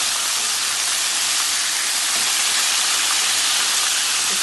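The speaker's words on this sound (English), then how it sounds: "I'm going to go ahead and I'm going to flip it over so it's a fry on the other side" Fish frying in a pan, Guyanese style, gives a loud, steady sizzle and hiss that fills the whole stretch without a break.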